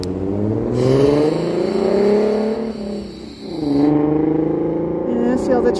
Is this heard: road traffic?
yes